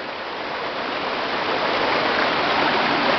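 Small waterfall spilling over blue rocks outdoors, a close, steady broadband rush of water that swells slightly louder over a few seconds.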